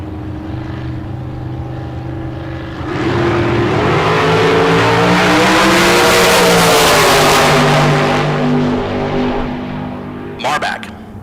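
Drag racing cars, including a red shorty American Prepared Dragster, idle loudly, then launch into a surging, rising engine roar that fades back down as they pull away, with an announcer talking over it.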